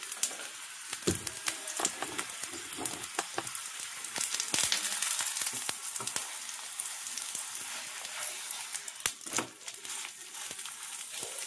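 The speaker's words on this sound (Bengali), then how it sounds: "তো এটাই আমি ঘি দিয়ে ভাজবো" Aloo paratha frying in ghee on a pan, a steady close crackling sizzle with scattered sharper pops throughout.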